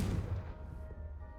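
Confringo fire spell blast in Hogwarts Legacy, a single deep booming impact that quickly fades into a ringing tail, heard alone.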